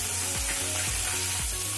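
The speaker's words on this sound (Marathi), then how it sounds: "छान परतवून देणार आहे मी आणि हा लसूण थोडा लाल करून घेणार आहे" Garlic, ginger and green chili sizzle steadily in a hot pan, the continuous crackle broken by a few soft stirring scrapes.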